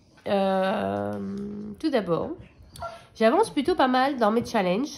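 A dog whimpers and squeals in high, wavering yelps while rolling around indoors, heard close up alongside someone talking.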